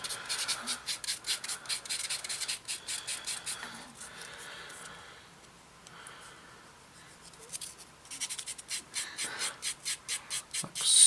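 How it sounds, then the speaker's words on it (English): Quick repeated scratchy rubbing strokes, close up and fairly quiet, in bursts separated by brief pauses, as a sanding sponge smooths a plastic 1/48 scale model aircraft wing part by hand. "Take a sanding sponge in."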